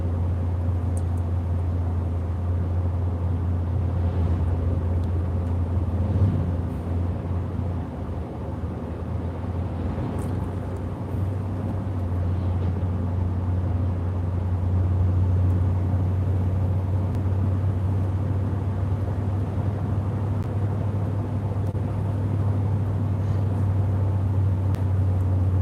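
A car is driven with the cabin heard from inside, a constant low engine and road drone that holds steady throughout, no speech.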